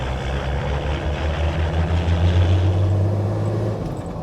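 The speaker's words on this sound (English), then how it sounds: "if we spool that turbo up a little bit you should see it climb" Turbocharged older car engine droning steadily under light acceleration on flat ground, a low continuous hum with a rising whine as the turbo spools, loud and close with no talking.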